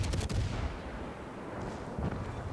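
Ship guns on the HMS Leander firing in World of Warships: a burst of heavy booming shots at the start, then a rumbling roar that fades slowly, with another low thump near the end.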